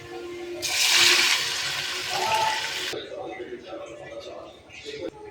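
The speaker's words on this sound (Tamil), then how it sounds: "அடுத்து இது கூட கொஞ்சம் மிக்ஸி கழுவுன தண்ணி சேர்த்துக்கிறேன்" Water used to rinse a mixer jar splashes and pours into fish curry paste in a steady burst for about two seconds, then quieter stirring and clinking follow, with a voice talking throughout.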